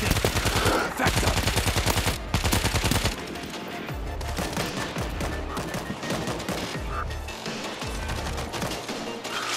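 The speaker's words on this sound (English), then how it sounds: "Stationary machine gun in position" In the video game WWZ Aftermath, a stationary mounted machine gun fires long, rapid bursts in a Tokyo level, loud and close, with brief pauses between volleys and sporadic single shots.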